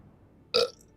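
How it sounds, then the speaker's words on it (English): A single short burp after drinking expensive freshly squeezed juice, close and fairly loud, breaking a near-quiet background and fading within a fraction of a second. "I'm probably going to be burping a lot here"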